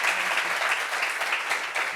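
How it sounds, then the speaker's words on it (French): Studio audience applause for a guest on a French talk show, a steady wash of many hands clapping at an even level for about two seconds with no voices over it. "Applaudissements pour Brézingel"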